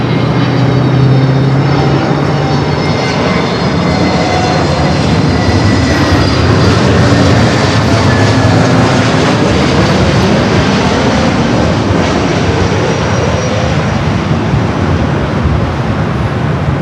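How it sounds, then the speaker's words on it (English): A Lufthansa Dreamliner at LAX makes a loud, continuous jet engine roar with shifting whining tones, close by and unbroken for over fifteen seconds, no talking. "Lufthansa Dreamliner heading to the south"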